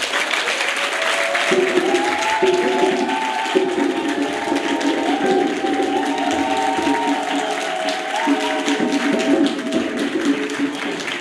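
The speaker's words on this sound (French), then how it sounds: "Un applaudissement." Sustained applause from a crowd, steady dense clapping lasting throughout, with some voices mixed in.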